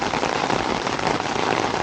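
Heavy rain pours down in a dense, steady hiss of drops pattering on surfaces, loud and unbroken with no voices.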